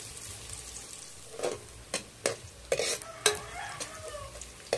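Chicken sizzles steadily in a hot pan with onions for arroz caldo, with several sharp clatters of a utensil stirring and scraping at irregular intervals.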